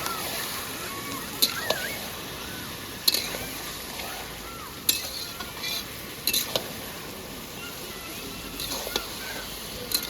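Meat frying in a pot at an outdoor winter picnic, with a steady crackling sizzle and occasional sharp scrapes and clinks of a spoon stirring, close by, with no talk.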